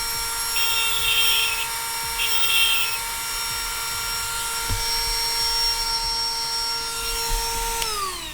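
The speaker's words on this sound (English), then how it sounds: "I was sharpening up my tungsten" A bench grinder whines steadily while a tungsten welding electrode is sharpened against the wheel in a mobile welding setup, a constant high-pitched tonal hum with the grinding note shifting briefly as the piece is pressed, winding down near the end.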